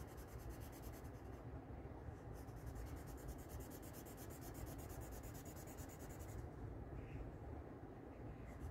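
A peach marker scratches steadily across paper while coloring a drawing of Abraham Lincoln, a faint, continuous close rubbing texture with no speech.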